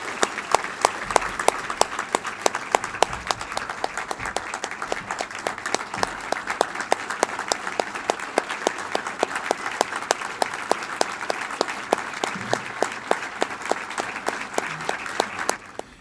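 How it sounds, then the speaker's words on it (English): Audience at the 2009 Long Beach City College Hall of Fame ceremony applauding the inductees, a dense, loud, sustained round of clapping from a large crowd, continuous for the whole stretch with no talk over it. "Please join me in giving them a wonderful round of applause."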